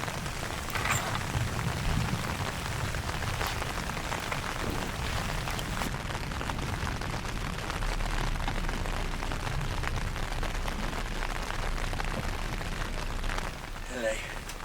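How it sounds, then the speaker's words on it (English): Heavy storm rain pounding on the roof of a narrowboat, a dense continuous hiss and patter at close range that holds steady, with a faint voice or two buried under the downpour. "It's full on rain."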